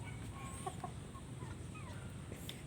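Native chickens cluck softly in a farmyard, a few short, scattered clucks over a constant low background hum, faint and somewhat distant.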